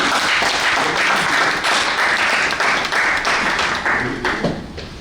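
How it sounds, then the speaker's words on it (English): Loud, dense audience clapping at a business registration and licensing program, welcoming a speaker, steady and close throughout and easing slightly toward the end. "Please, a round of applause for him."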